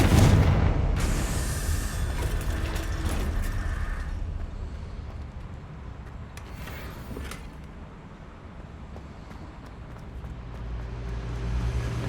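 A Confringo spell explodes in Hogwarts Legacy: a loud fiery blast at the start, then a long rumbling, crackling roar that fades and swells again, with no voices.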